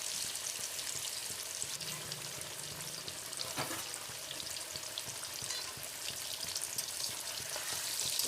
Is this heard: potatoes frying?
yes